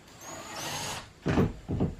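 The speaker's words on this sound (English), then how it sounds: "So I need to drill a couple of holes." A power drill boring holes in an ATV cart under construction: a steady whirring run, then two short, louder bursts as the bit bites into the material, close by with no talk.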